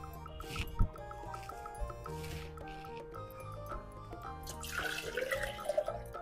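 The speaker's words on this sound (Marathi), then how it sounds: "आता ह्याच्यामध्ये आपल्याला पाणी टाकायचंय." Water poured into thick juice inside a mixer jar, a quiet close trickle and splash with small knocks of the jar, growing brighter and gurgling toward the end, no talk.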